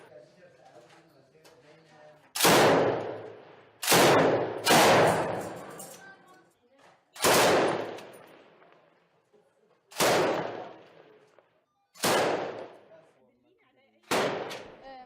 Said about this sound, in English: fires back towards a building where they have spotted enemy snipers